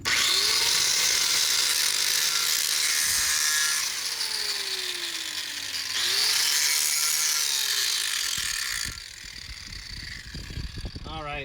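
A well-worn 40 grit flap wheel grinds on a power tool in long, loud whining passes with pitch dips as it loads, then stops, leaving scattered knocks and faint handling noise.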